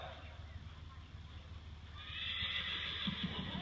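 Horse cantering in a riding lesson, with soft rhythmic hoofbeats and body movement under an open outdoor hiss, a neigh-like sound near the end, and an instructor's voice faintly present.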